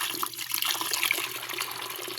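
Water from a garden hose, used to water plants at a school, runs in a steady, soft hiss and splash, fairly faint and constant throughout with no talking.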